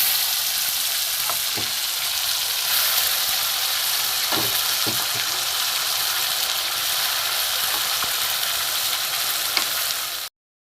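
Ground peanuts, melon seeds, ginger and tomato paste fry with whole cumin in hot oil, giving a loud, steady sizzle throughout with a few faint clinks of stirring.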